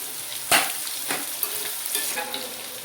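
Chopped onion dropped into a hot pan for Kolhapuri vegetable bhaji sizzles loudly on contact, then keeps frying with a steady hiss broken by a few scraping stirs.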